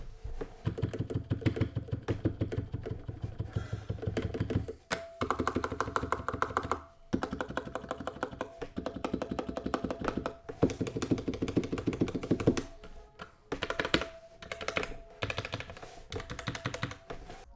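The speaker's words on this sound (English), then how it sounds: "I'll do a stabilizer sound test right now so you can hear it." Typing test on an RK61 budget mechanical keyboard focusing on its stabilizers, with dense muted, dampened key clacks in fast bursts and a few brief pauses, close and alone.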